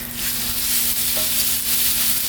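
Seasoned ground beef hitting a hot pan over medium heat, a steady loud sizzle with a faint hum beneath and no voices.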